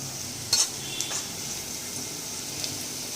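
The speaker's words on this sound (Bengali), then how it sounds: "পেঁয়াজটা ভাজা হয়ে গেছে, এবার এটা নিয়ে চিকেনের মধ্যে দিয়ে দেবো।" Fried onion is stirred into chicken in a pan, with a quiet sizzle throughout, a sharp utensil clink near the start and a few faint scrapes after.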